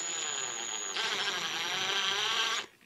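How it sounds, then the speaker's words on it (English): A power drill with a 5mm bit bores steadily into plastic posts on a die-cast toy car, a continuous whining buzz that shifts pitch once midway and then stops near the end, close and loud with no talk. "It drills in very easily being plastic."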